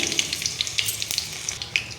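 Hot groundnut oil sizzles and crackles steadily in a pan up close, with sharp little pops scattered throughout.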